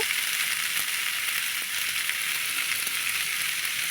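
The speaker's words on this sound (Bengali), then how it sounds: "তারপরে ওই তেলের মধ্যে আলুগুলো দিয়ে আর একটু নেড়ে নেব" Small potatoes frying in hot oil while being stirred, giving a steady, bright crackling sizzle that fills the whole stretch at a moderate level, with no voices.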